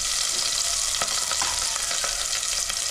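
Onion and green chilli frying in a pan, a steady close sizzle with a few scrapes and stirring clicks scattered through.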